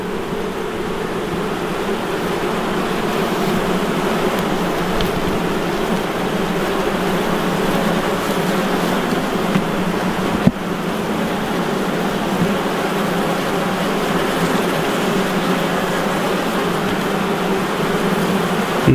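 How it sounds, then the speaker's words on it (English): Honey bees buzzing loudly and steadily around an open hive during a beekeeper's inspection, a dense, continuous drone close by with one faint tap partway through. "These bees seem a little bigger"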